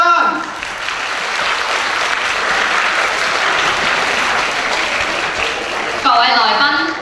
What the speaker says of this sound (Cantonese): 掌聲歡迎我哋嘅嘉賓！